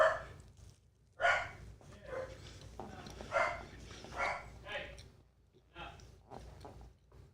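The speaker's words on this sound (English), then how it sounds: "Uh-oh, the dogs are barking." Two dogs barking indoors in bursts, some sharp and loud, others softer, with a low steady hum underneath and people talking over part of it.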